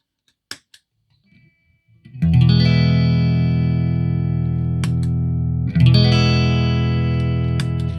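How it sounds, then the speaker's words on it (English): Electric guitar played through a high-frequency boost pedal prototype: a few faint taps, then a loud sustained chord ringing out, a brief break, and a second strummed chord sustaining alone to the end. "it's a very transparent boost right now"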